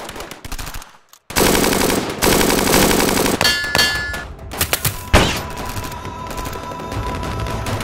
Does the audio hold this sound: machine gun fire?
yes